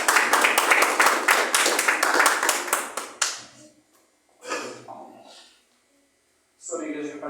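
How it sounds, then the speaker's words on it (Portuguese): A church congregation claps hard and fast in a dense rhythmic burst that stops after about three seconds, followed by sparse talk. "Vamos receber o servo de Deus com as palmas bem fortes para Jesus."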